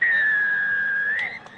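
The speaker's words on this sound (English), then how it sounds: "It just about blew the pee out of that whistle" A referee's whistle blasts hard at a rugby league match between Mt Albert Mad Dogs and Manurewa Marlins, a single long shrill tone held over a second before trailing off, loud and close.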